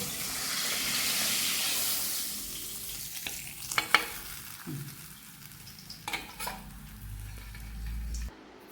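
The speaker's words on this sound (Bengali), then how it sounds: "এভাবে আমি বাকি মাছ কটাও ভেজে নিই" Puti freshwater fish frying in hot oil, a steady sizzle that is loud at first and then settles, with occasional clinks and scrapes of a utensil toward the end.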